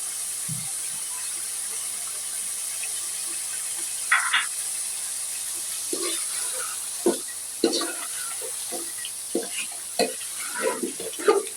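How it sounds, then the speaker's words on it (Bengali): Mango pickle oil poured into beef cooking with jackfruit seeds in a pan, giving a steady close hiss and sizzle with scattered spoon clinks and stirring scrapes, no talk. "এখন এই আমের আচার তেল মাংস মধ্যে ঢেলে দিই"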